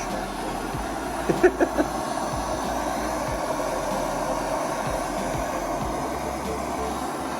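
A torch roars steadily as it heats stuck hinges on an old Ford Fiesta RS Turbo door to free the pins, a constant hissing blast with a brief cluster of metallic taps early on.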